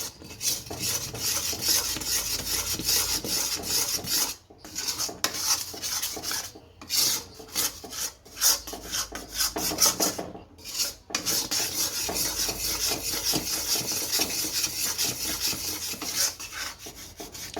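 A spoon or spatula scrapes and rubs continuously through heated jaggery in a pan while chikki is being made, a rasping stir with brief pauses and uneven rhythm, close and fairly quiet.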